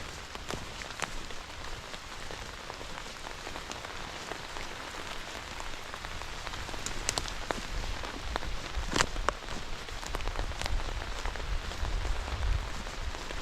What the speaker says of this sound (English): This is a very cold rain